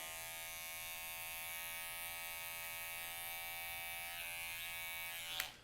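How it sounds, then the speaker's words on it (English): A Braun electric foil shaver finishing a modern undercut mullet haircut: a steady, close, high-pitched electric buzz that holds evenly for several seconds and ends with a brief scrape or click, with no talking. "adding in the finishing touches with this foil shaver by Braun"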